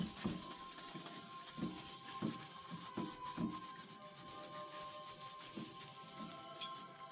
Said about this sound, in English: I'm just going to take a sponge and rub it off with the sponge.